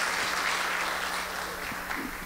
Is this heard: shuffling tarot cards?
no